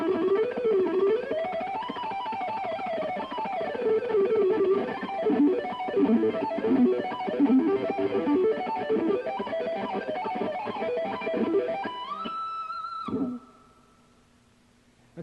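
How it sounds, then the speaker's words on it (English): Fast ascending harmonic minor riff on a distorted electric guitar in a shred style, a continuous run of notes that climbs and ends on a held high bend before cutting off, played alone with no voices. "I'm going to start off with a little ascending riff, and it sounds like this."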